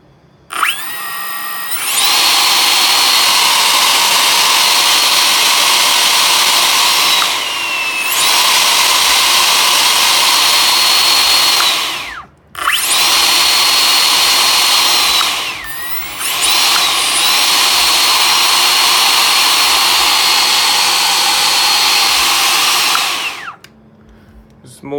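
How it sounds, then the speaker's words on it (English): A Makita XCU03 cordless chainsaw's electric motor runs loud and steady as a high, even whine, cutting out briefly twice with short gaps before running on, then stopping near the end. "See, now the motor start turning."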